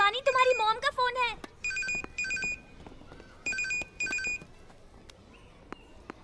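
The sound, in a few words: telephone ringing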